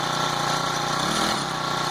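A Honda GX25 small engine on a motorized bike runs at idle close by, its steady putter wavering and briefly dipping around the middle as it stutters unevenly.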